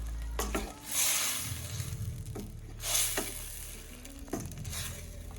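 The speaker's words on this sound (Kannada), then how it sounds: "ಈಗ ಇದನ್ನ ಚೆನ್ನಾಗಿ ಮಿಕ್ಸ್ ಮಾಡ್ಕೊಳ್ಳೋಣ" A spoon stirs a turmeric-spiced stuffed ridge gourd mixture in a pan, with a few scraping strokes and soft sizzling between them, close and fairly quiet with no talking.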